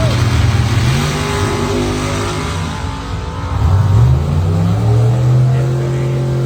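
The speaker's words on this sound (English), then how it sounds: "Scott Erickson left side, 69 SS Camaro." Drag racing launch between a 1969 SS Camaro and an altered dragster, engines roaring loudly and continuously with rising revs as the cars pull away, a deep close rumble filling the whole stretch.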